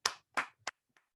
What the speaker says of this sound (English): I request all of you to give a round of applause to yourself